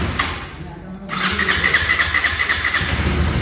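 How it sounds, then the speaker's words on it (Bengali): A new KTM Adventure 390 motorcycle with a self-starter: a brief quiet gap, then the engine catches about a second in and settles into a close, pulsing single-cylinder idle. "ইঞ্জিনটা স্টার্ট করি তোমাদেরকে শোনাই।"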